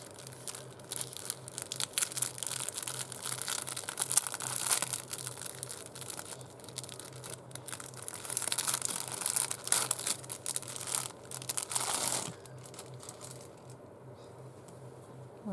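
Packaging of a slow-stitch textile piece being torn and crinkled open, a run of close, irregular rustling and ripping bursts, quieter toward the end.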